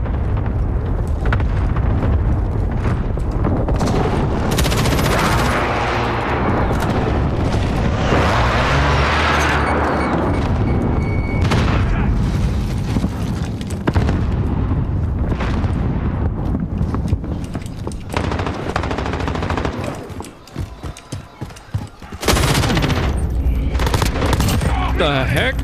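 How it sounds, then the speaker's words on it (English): Game combat in Call of Duty: Modern Warfare, with a precision airstrike and heavy gunfire: dense, continuous bursts of shots and booming explosions fill the whole stretch, briefly thinning near the end before resuming loud. "Enemy precision airstrike inbound."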